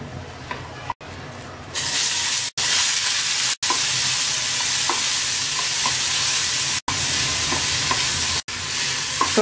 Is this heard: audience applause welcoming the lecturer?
no